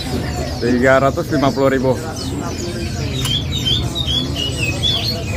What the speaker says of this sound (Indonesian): Murai trotol gemlingan.